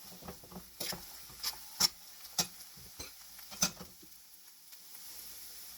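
Gongura (roselle) leaves fry in hot oil for an Andhra-style pickle, giving a soft steady sizzle broken by a series of sharp scraping stirs of a spoon against the pan, with no talking.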